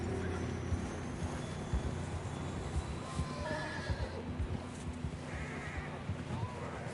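A horse neighs and whinnies amid hoof clip-clop and ambient outdoor game sounds in Red Dead Redemption 2, the calls moderately near over a steady noisy background.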